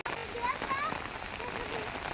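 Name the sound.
rain falling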